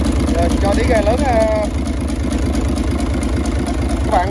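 Hino Yamaha HO6B diesel engine, 130/165 ps, running on a large boat, a loud steady low rumble throughout with a few brief whistling tones on top and voices talking over it.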